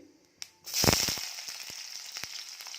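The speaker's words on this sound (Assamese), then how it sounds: "তো তেলখিনি গৰম হৈ গৈছে, মই এতিয়া পিঁয়াজটো দি দিম।" Onions tossed into hot oil for veg chowmein hit with a sudden loud sizzle that settles into a steady crackling fry, close and alone after a brief clink.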